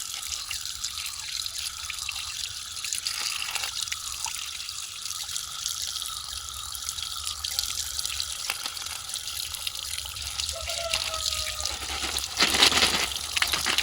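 Crab pieces rinsed under a running tap in a home kitchen, a steady hiss of water into a sink with small drips and splashes, close and fairly quiet, ending in a louder burst of flow.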